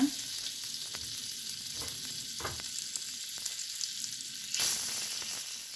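Butter sizzles steadily in a pan as tempering begins for Lahori chana masala, a continuous bright frying hiss with a few faint stirring taps and a brief louder burst near the end, no speech.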